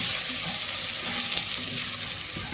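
Onions sizzle and fry in the oil of a pot, scraping up the browned bits left from beef for a red wine bourguignon, a steady close crackle with faint stirring and no voices.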